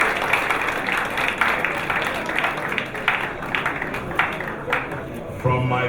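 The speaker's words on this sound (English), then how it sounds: "let the decibels of your applause reflect that situation" Applause from a conference audience at a law firm's annual gathering, a dense steady wash of clapping held throughout, with a crowd murmur and a brief voice near the end.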